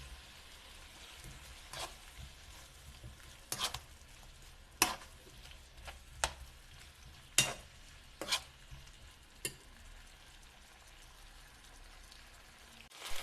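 Fresh tomatoes go into a frying pan for a cocoyam dish, with a soft continuous sizzle beneath scattered scrapes and clacks of a spoon stirring, the stirring strokes coming in irregular bursts.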